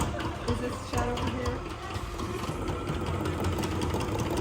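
A honey extractor spins at full speed during a honey harvest, a steady mechanical whirring and rattling hum with rhythmic knocking, heard close alongside voices talking.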